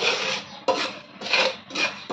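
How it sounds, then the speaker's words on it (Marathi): A spoon scrapes through coarsely ground rice roasting in ghee in a pan, making four rasping, gritty strokes in a steady back-and-forth rhythm, close and alone. "ती आता आपण तुपात मस्त लालसर भाजून घेऊया"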